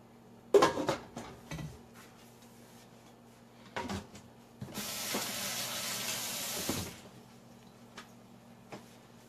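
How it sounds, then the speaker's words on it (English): Sweet potato black bean burgers pan frying in a hot pan give a loud, steady sizzling hiss lasting a couple of seconds, preceded by a few clanks of pans and utensils. "I'm going to turn my heat up and get ready to pan fry these"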